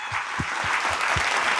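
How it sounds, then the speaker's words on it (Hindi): Enthusiastic audience applause welcoming honoured guests at a school event in Varanasi: dense, steady clapping that holds at even strength from start to finish, with no voices breaking through. "बहुत जोरदार ताली बजा के उनका स्वागत हो"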